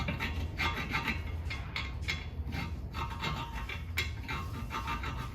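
A thread file cleans burrs off the threads of a rear wheel stud on an 8th-generation Honda Civic. A close, quiet, gritty rasping comes in repeated short strokes, steady and rhythmic, with no talk.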